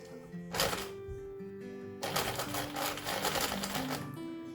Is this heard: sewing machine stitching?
yes